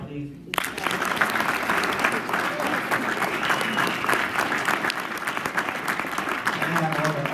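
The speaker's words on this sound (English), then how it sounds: "Can we have another round of applause, please?" Sustained audience applause at a university lecture hall event, loud and dense clapping from a large crowd that starts abruptly and continues steadily throughout, with a few cheers mixed in.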